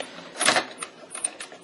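Plastic parts of an Energon Optimus Prime toy fold into place with a few short, close clicks and scrapes, one louder snap followed by lighter ticks.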